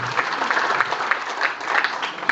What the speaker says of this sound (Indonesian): Tepuk tangan untuk katuran, ya.